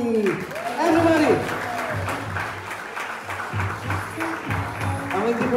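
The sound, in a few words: audience applauding at a party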